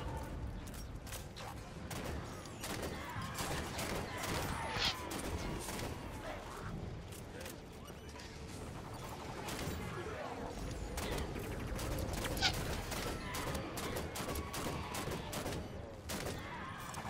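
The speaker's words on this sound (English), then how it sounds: "let your fire team unload their fuel rod cannons into the hunters" Dense, continuous bursts of fuel rod cannon fire and explosions fill a Halo 5: Guardians firefight against hunters, loud and relentless throughout with battle clatter and no clear pauses.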